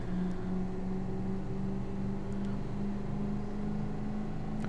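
A manual car engine revs while driving down an endless highway in BeamNG Drive, heard as a quiet, steady hum with a constant low tone and no clear surges.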